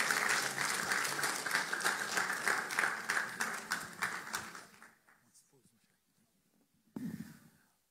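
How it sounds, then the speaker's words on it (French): Steady applause from a crowd fills the first few seconds, then fades out into near silence before a brief burst of noise near the end. "vous êtes capable d'applaudir une fois de plus"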